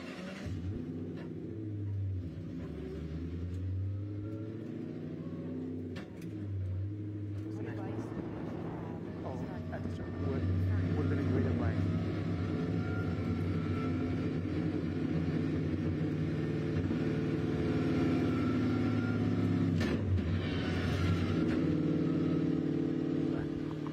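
A 1,000-horsepower Ford Mustang rumbles through an easy cool-down lap, its low engine note rising and falling at moderate distance while someone talks over it.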